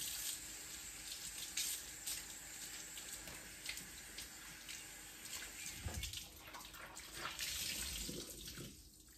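Tap water runs steadily into a sink during washing and rinsing, a continuous close splash with brief shifts in flow and no talking.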